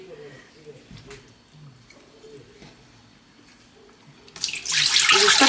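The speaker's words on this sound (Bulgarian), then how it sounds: "ще си сипя водата от буркана в тенджерата." Water from a glass jar splashes into a cooking pot near the end, a loud close gush that follows a quiet stretch of faint kitchen sounds, with a voice speaking softly beneath.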